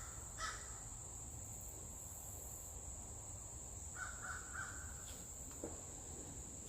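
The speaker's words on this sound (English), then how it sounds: "foul-sounding crows." Crows caw outdoors in a short cluster of rough, repeated calls at moderate distance, set against a constant high-pitched insect-like drone and faint background noise.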